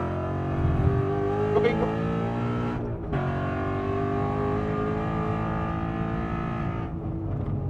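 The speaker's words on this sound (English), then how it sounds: "This car even pushes 325 wide tires in a drift." A Ford Mustang RTR Spec 5 drift car with over 800 hp and 325-wide tyres at the Nürburgring, its loud engine droning and revving steadily from close by, dipping briefly twice as it shifts gear.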